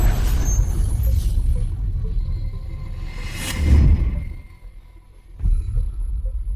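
A truck's air brakes release a sharp hissing burst midway, set against a steady low engine rumble, with a quieter hiss returning near the end; no one speaks.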